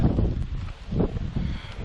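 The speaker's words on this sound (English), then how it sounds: "There's a good bit of breeze coming through right now" Low, gusty wind buffeting outdoors, rumbling and rising and falling over a couple of seconds, with a faint rustle of leaves.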